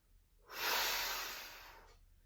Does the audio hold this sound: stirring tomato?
no